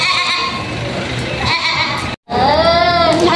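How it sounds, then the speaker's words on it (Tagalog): Native goats and Dorper sheep at a livestock market bleat loudly and close, with overlapping wavering calls through a brief gap, ending in a long, strong bleat. "Ayan po, may mga kambing si sir dito"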